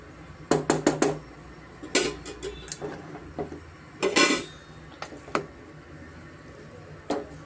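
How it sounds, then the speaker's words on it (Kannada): Tomato bath being stirred and mixed in a pan, with a spoon clanking and scraping against the metal in irregular, fairly close knocks and clinks. "ನೋಡಿ ನೀಟಾಗಿ ಎಲ್ಲ ಮಿಕ್ಸ್ ಮಾಡ್ಕೊಳ್ಳೋಣ"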